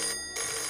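A telephone bell rings in two short bright bursts separated by a brief gap, loud and close with no talk over it.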